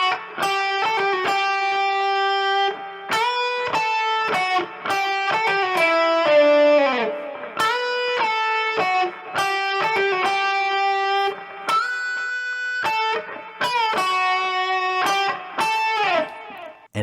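Electric guitar playing a riff, with fast picked melodic notes in a repeating galloping pattern, lightly overdriven, close and alone, with a brief bend midway.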